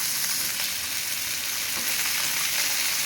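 Four tomatoes frying in hot oil for a Telangana-style taro masala curry, a loud, steady hissing sizzle that fills the whole clip without a break.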